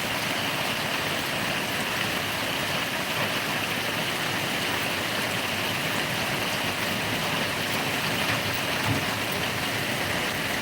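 Heavy rain pours down steadily and loudly over farm fields, a dense, constant hiss of water with no pauses or voices.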